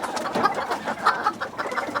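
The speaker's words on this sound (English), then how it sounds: "Here is a setting hen. She's on about a dozen eggs." Serama bantam hen sitting on about a dozen eggs, giving soft repeated clucks and low murmuring calls, close by and fairly quiet.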